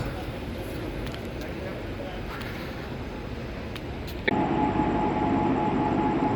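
A diesel locomotive of the Mangaluru Rameshwaram Express, a WDP4 from Hero Diesel Loco Shed, rumbles steadily at a station platform, its low drone swelling louder partway through.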